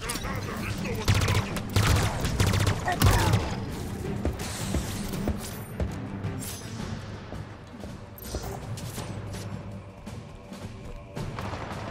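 Bursts of weapon fire in Halo Infinite's campaign come as rapid, dense volleys of shots in the first few seconds, then thin out into scattered explosions and mechanical game noise.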